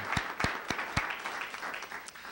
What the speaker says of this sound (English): I ask those of you here present if you wouldn't mind helping me give them a round of applause